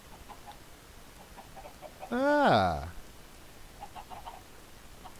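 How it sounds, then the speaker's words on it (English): A chicken in a block-building video game lets out a single loud squawk partway through, over quiet game ambience with faint clucks around it; a man briefly exclaims. "Oh, he's got chickens."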